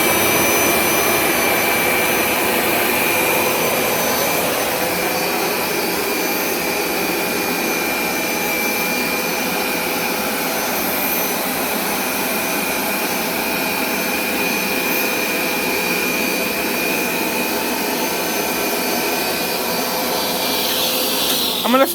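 A Hoover carpet cleaner, likely a Power Scrub Turbo or SmartWash Pet Complete, washes and dries a pre-treated carpet stain. Its steady, loud motor whine and airy suction roar run unbroken and close by throughout.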